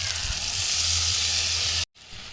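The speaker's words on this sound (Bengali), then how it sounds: "ঝোল ফুটে গেছে, এবার মাছ দিয়ে দেবো।" Fish curry gravy bubbling in a pan for pomfret curry, a steady close hiss and simmer with a brief cut near the end.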